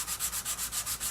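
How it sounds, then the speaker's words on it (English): Sandpaper lightly rubs the edges of wooden box kit pieces in quick, even back-and-forth strokes, a soft rhythmic scratching of about eight passes with no voices. "take our sandpaper, and we're just going to give this a light sanding"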